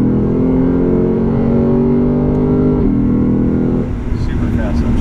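A 2015 Lexus RC F accelerating hard, its engine note climbing through quick upshifts with brief dips between gears, loud and close, with a voice talking over it.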